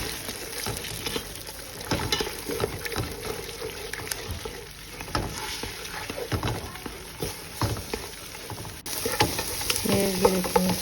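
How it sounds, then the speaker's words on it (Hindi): Vegetables cook in ghee and oil for egg fried rice, giving a continuous soft sizzle broken by the scrape and clatter of stirring in the pan. "अभी इसको थोड़ा सा घी डाला था, ऑयल डाला था, उसके अंदर मैंने इनको पकाऊंगी।"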